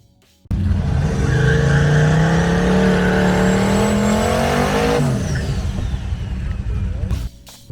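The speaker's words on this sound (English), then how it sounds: "But I lined it up for a burnout anyways." Turbocharged small-block Ford Fairmont drag car doing a burnout at a drag strip, with a loud engine roar that climbs steadily in pitch for several seconds, then drops off into rough idle and tire noise before cutting out.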